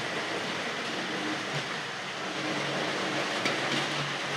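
A model railway coach rolls along toy track at a model train show, giving a steady, soft rolling and rumbling with faint clicks from the rails, with no talking over it.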